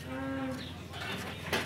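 Cattle lowing at a crowded livestock fair in Afogados da Ingazeira, a drawn-out moo rising over steady outdoor crowd noise and clatter.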